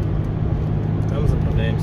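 Steady, loud rumble of a car cruising on the highway toward Vologda, a constant engine and road drone heard from inside the vehicle, with a person talking over it.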